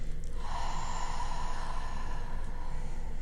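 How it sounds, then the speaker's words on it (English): A long, steady breath pushed out through the mouth during a seated relaxation exercise, a soft airy whoosh that holds evenly for about three seconds, close and alone with no talking. "Exhale through the mouth."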